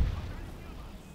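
A deep, booming cannon shot in the video game Empire: Total War, with a heavy low-end thump, followed by a rumbling decay over steady background noise.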